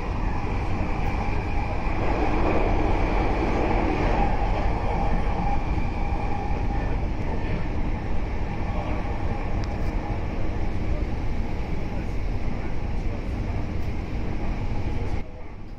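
A Tokyu Den-en-toshi Line train runs steadily past Ichigao Station, a semi-underground stop, with a constant loud rumble and rolling wheel noise throughout and a spoken voice in the carriage.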